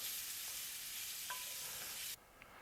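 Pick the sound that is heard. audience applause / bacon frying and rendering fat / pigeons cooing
bacon frying and rendering fat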